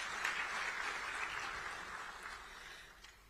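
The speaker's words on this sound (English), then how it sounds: "Shall we applaud for the heads of state?" Delegates at an extraordinary SADC summit of heads of state and government applaud in a dense, continuous round of clapping that holds steady at first and then slowly tapers off.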